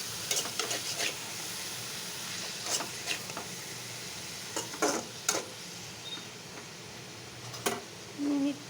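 Sliced bitter gourd is stir-fried in a pan. A soft, steady sizzle runs throughout, broken by occasional light scrapes and clinks of a spatula at a moderate distance.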